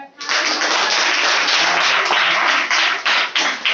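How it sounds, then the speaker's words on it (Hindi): A church congregation claps steadily together, a dense, loud and continuous burst of applause that runs throughout with no talk over it. "ताली कैसे बजना है?"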